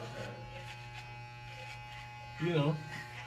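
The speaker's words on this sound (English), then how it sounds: "I'm just here cutting my hair like I told you guys" Electric hair clippers buzz steadily close by while cutting hair, a constant low hum with a brief louder surge near the end, under someone talking.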